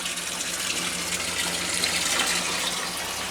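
Water from a pump bypass gushes back into a sump at a homestead fish setup, a constant, close, splashing flow with no voices.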